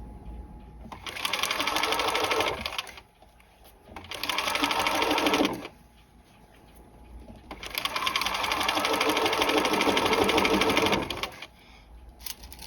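A sewing machine stitches a seam joining an upper collar to its facing, running in three loud bursts of steady whirring, separated by short pauses.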